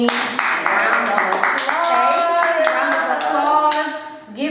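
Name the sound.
audience applause for Rockie D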